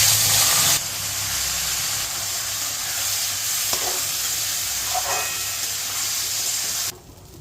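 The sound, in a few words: soaked Gobindobhog rice frying in oil with spices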